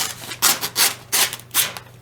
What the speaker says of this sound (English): paper being torn.